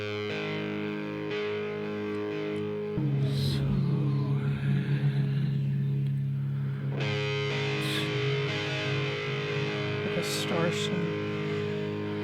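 Heavily distorted guitar from a song on an album, thick and sustained, loud and continuous with a wall of crunchy tone and drums throughout.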